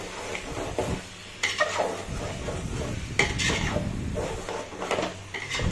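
Mutton being stirred and fried in a covered pot with fried potatoes, a steady close sizzle under repeated scraping and clinking of a spoon against the metal pot.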